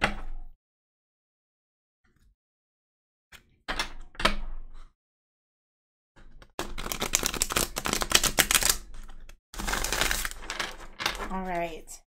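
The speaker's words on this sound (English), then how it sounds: "I'm going to grab my deck and we're going to go ahead and give it a good shuffle" A deck of tarot cards being shuffled up close, with a few isolated taps and handling sounds first, then long dense bursts of riffling cards with short pauses between them.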